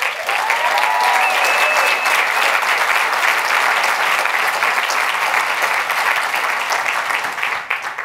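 A keynote crowd at VoiceCon claps loudly and continuously, dense sustained applause with a few cheers and whistles early on before it tapers at the end.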